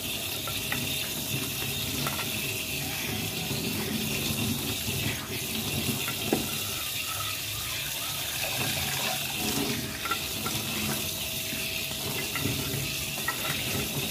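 Steady rush of running tap water while dishes are washed up with a liquid aluminium-brightening detergent, a continuous close hiss with faint clinks, no talk over it.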